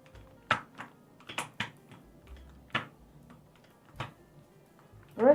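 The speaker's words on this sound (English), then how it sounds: "Maybe right now I should take off all the keycaps and the switches." Sharp plastic clicks and snaps as keycaps and switches are pulled from an Epomaker Tide aluminum keyboard, isolated and close in a quiet room, arriving in irregular bursts of one or two.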